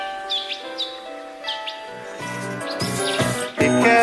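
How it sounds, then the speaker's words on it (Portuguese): Several birds chirp and sing in short, bright tweets and trills, joined partway through by tonal music in the background, with no voices. "Segredo de passarinho é saber cantar."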